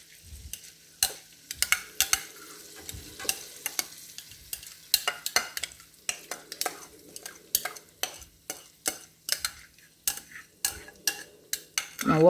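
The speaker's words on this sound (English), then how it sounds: "So we're going to basically be like frying the rice. We're going to keep tossing it until all of the rice is covered." Rice fries in a pot for turmeric coconut rice while a spoon repeatedly scrapes and tosses it, giving rapid irregular clacks over a soft sizzle, close and loud, with no voices.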